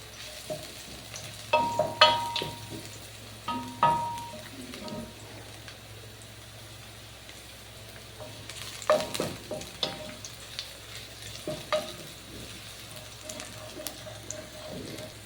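Chicken bones browning in a pan, a soft steady sizzle with bursts of louder scraping and clattering as they are stirred, close by and without speech.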